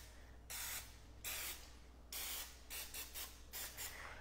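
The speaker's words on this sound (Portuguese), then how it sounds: "Pra não grudar, a gente espirra azeite de oliva com esse spray aqui" Olive oil cooking spray spritzed into a pan, several short close hissing bursts in an uneven rhythm, the last ones quick and clipped, with no talk.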